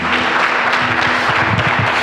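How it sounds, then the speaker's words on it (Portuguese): A church congregation applauds during a celebration worship service, a full wash of clapping from a crowd, steady and fairly loud, with a low sustained hum underneath. "Você pode aplaudir Jesus por isso?"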